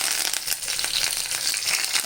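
Cumin seeds and curry leaves dropped into hot oil, giving a loud, dense, continuous crackling sizzle with rapid popping spatters throughout.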